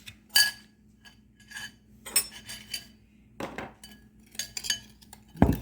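A spoon scrapes and clinks against a dish while a sugar and cinnamon mix is stirred, giving irregular close taps and chinks separated by brief quiet gaps, with no talk.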